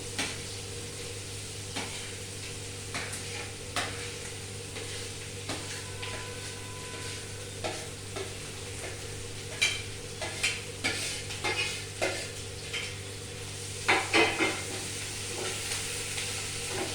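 Potato and capsicum sandwich filling sizzles gently in a pan while a spoon scrapes and stirs it in repeated clicks and taps, close and quiet with no voices.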